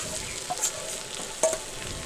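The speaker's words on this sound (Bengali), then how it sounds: "আলুটা একটু ভালো করে ভেজে নেব" Mashed potato frying in a wok with ginger paste and green chilli, a close soft sizzle broken by two brief scraping stirs of the spatula.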